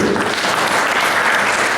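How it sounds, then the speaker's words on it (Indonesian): Audience applause at a farewell-and-welcome ceremony for the head of BPTP East Java, a dense, steady wash of clapping that stays loud for the whole short stretch with no voice on top. "Tepuk tangan untuk BPTP."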